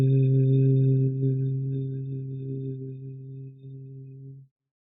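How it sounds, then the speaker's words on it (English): A person's long exhale hummed on the syllable vu, a steady low voiced drone with stable harmonics that fades gradually over several seconds and then stops abruptly, with no other sound around it. "let's do some long exhales with the syllable vu, or you could hum"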